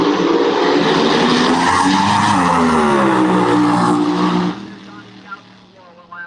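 Drag race car at the California Hot Rod Reunion roars off the line with a loud, sustained engine blast and skidding tires, then cuts off abruptly after about four seconds, leaving faint crowd noise and a voice.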